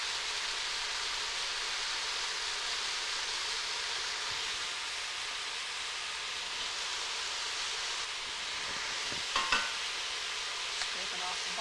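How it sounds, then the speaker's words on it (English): Frozen peas and three cloves of garlic sizzling in a hot pan, a steady bright frying hiss with a few scraping clinks of a spoon as the mixture is stirred near the end. "Scrape it off the bottom. Give all this a nice stir."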